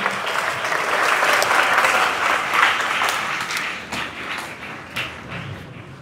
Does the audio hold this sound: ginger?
no